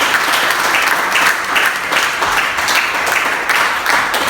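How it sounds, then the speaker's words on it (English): A live audience breaks into sustained applause for celebrants at a birthday gathering, a dense, steady wash of many hands clapping close and loud for several seconds, with no speech over it. "Give them a round of applause"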